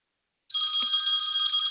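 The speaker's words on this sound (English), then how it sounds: "My phone will ring in a second." A phone starts ringing abruptly after a moment of silence, a loud, steady electronic trill that holds without a break.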